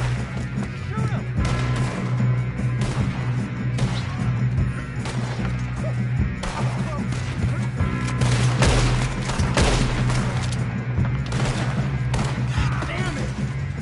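Rapid bursts of gunfire in a console video game shootout on PS4, dense and continuous with sharp cracks over a steady low hum, with voices shouting excitedly in between.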